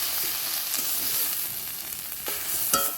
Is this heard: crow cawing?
no